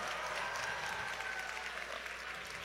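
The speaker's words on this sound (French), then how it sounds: "Attention, une bonne main d'applaudissements pour les poutines," A studio audience at a poutine cooking competition applauds the dishes, a steady, fairly faint wash of clapping from start to finish.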